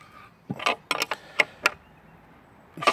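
A bolt is tightened through a washer into timber, giving a sparse series of close, sharp creaks and clicks with quiet gaps between them.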